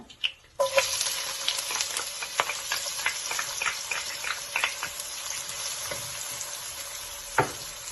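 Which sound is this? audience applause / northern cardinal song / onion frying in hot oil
onion frying in hot oil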